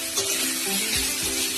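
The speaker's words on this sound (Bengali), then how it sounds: "এটা কিন্তু বারবার নাড়তে হবে যাতে মাংসটা নিচে না লেগে যায়।" Marinated chicken sizzles steadily in a pan as it is stirred repeatedly, a dense close hiss with a few soft scraping strokes, and no speech.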